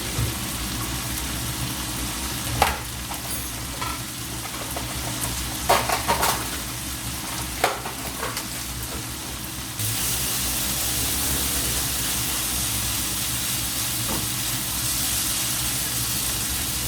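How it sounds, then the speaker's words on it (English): Tomatoes and omena fish cook in a pan with a constant hissing sizzle, broken by a few soft clicks and taps from the utensil, and the hiss grows brighter and fuller partway through. "So I'll let the tomatoes cook,"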